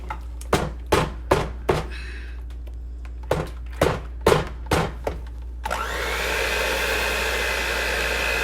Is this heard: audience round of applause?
no